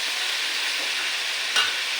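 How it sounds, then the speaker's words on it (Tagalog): Chicken liver sautés in a pan with a steady close hiss of sizzling oil, briefly broken by a single stir or tap near the end. "Gigisain muna natin itong sa ating chicken liver."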